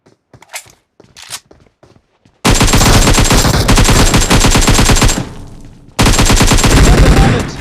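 Sustained automatic gunfire in a video game sounds in two long, loud, rapid bursts with a brief pause between them, coming after a few seconds of quieter clicks and taps.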